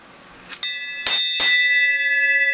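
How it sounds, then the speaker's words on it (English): A bell is struck three times in a row, each a bright metallic clang whose ringing tone sustains and slowly fades, close and loud with nothing else around it. "Let's see if the bell will ring."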